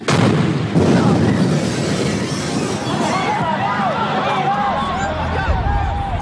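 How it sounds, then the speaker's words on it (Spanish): A bomb blast at an outdoor rock concert in a park at night, a deep boom with lingering rumble under a dense shouting crowd, chirping whistles and screams rising after, loud and chaotic. "De repente he sentido un gran estruendo, una explosión."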